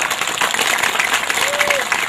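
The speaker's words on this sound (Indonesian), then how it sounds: "Tepuk tangan buat beliau." At a dzikir manaqib religious gathering, attendees clap for a visiting senior police commissioner: a fairly loud burst of applause mixed with crowd voices and a brief whistle-like tone.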